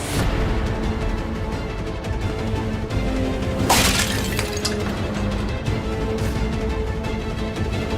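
An object slips from someone's hand indoors and smashes, giving a single sharp shattering crash midway through a steady background of dramatic music, with no voices.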